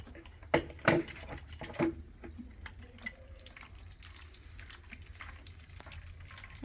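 Water runs from a tap while a chicken coop is being cleaned, a faint, steady wash broken by a few sharp splashes and clatters near the start.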